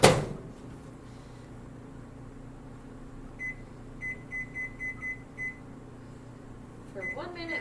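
A microwave oven beeps in a short run of button presses as it is set at medium power for mug cinnamon rolls, over a low steady hum in a quiet kitchen, with a faint clatter at the start.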